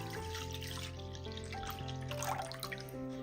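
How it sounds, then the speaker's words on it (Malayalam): Thick milk, half a litre, is poured into a cooking vessel, giving a soft continuous liquid pouring and trickling sound, quiet and close, with no talking. "ഒരു പാത്രത്തിലേക്ക് നല്ല കട്ടിയുള്ള 1/2 ലിറ്റർ പാൽ ഒഴിച്ചു കൊടുക്കാം"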